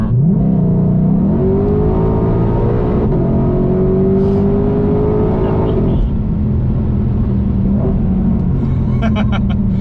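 A 2020 Shelby GT500 engine roars loudly and close, rising and falling as it revs through downshifts with a steady heavy drone, while a person talks over it.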